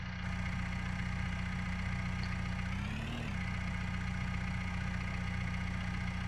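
Tractor engine idling steadily in the Farm Sim 19 farming game, a continuous low, even drone with a slight swell near the middle, holding at constant level throughout with no talk.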